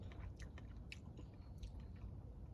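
Soft, faint chewing and biting on a freshly picked October strawberry from an ever-bearing garden plant, a quiet moist mastication over a steady background hiss.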